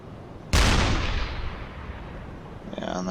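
A U-boat deck gun fires a shell at a 1941 Atlantic convoy in a video game: one sudden loud boom, then a long fading rumble, and a voice begins just at the end.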